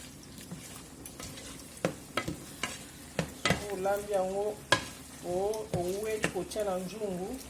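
A spoon stirring tomatoes cooking in a pan for Congolese-style beans, with scraping strokes over a soft sizzle and someone talking throughout.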